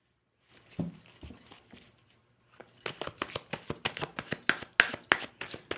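Tarot cards handled, then shuffled close up: a couple of soft taps and rustles, a short pause, then a quick run of crisp, rhythmic flapping riffles with no voices.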